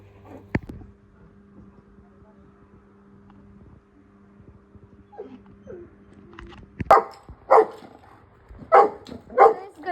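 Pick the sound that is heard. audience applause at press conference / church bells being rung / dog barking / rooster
dog barking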